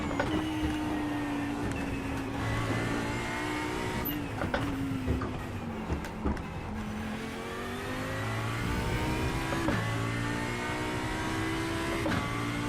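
A McLaren GT3 race car in the racing game Assetto Corsa Competizione, engine droning steadily as it rises and falls through gear changes on Road Atlanta, continuous and close with no voices.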